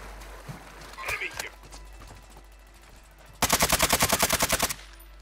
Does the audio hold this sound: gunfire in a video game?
yes